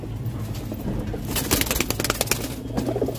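Pigeons coo at a pigeon market, several birds close by with repeated soft throaty coos, busy market noise and brief scuffling underneath.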